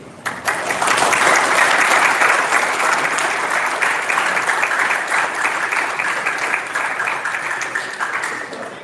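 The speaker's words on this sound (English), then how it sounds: "So students, please give them a round of applause for supporting you." Sustained applause from an audience of students and parents at an honor band clinic, dense, steady clapping that swells quickly and holds at full strength for several seconds before tapering slightly.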